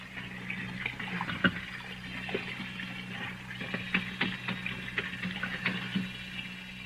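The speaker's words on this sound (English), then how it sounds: "There's the sink. Some hot water." Hot water running from a tap into a sink bowl, a steady moderate splashing flow with small irregular clinks and gurgles throughout, close by and with no talk.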